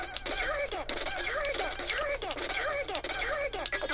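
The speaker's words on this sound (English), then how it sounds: "you'll be able to hear my controller clacking as I do it" Game controller buttons clack rapidly and irregularly while Dynamite Headdy is being played, with sharp close clicks layered over chirpy game music and sound effects.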